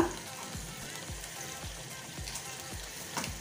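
Mustard seeds and cumin seeds sizzle in hot oil as a steady, faint crackling hiss, with soft popping ticks recurring about every half second.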